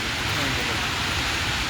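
Heavy storm rain pours down around the CN Tower area, a dense, steady hiss that fills the air evenly without letup.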